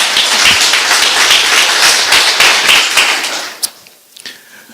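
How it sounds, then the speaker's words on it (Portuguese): A church congregation claps together in a loud, dense burst of applause that carries for over three seconds, then drops off sharply, leaving a few scattered claps and a short sharp knock in the quieter tail. "Dê um forte aplauso a Jesus"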